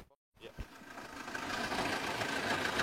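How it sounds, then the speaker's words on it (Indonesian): A brief silence, then a 1993 Suzuki Katana GX jeep engine cranks and catches, settling into a steady, rising idle hum. "Kita sekarang dengerin suaranya, kita starter dulu."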